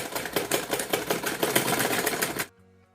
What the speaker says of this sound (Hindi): ऐसे एक सिलाई लगा देंगे